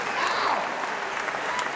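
A big crowd at the BlizzCon 2008 cosplay final claps in a thick, sustained wash, with a voice briefly speaking over the applause early on.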